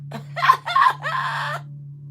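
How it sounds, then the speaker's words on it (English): A bird, apparently a rooster or other fowl, gives a short series of three or four harsh crowing or clucking calls over about a second and a half, fairly close and clear, over a steady low hum. "Look, there's the bird."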